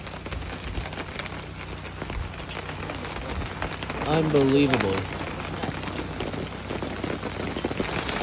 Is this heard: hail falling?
yes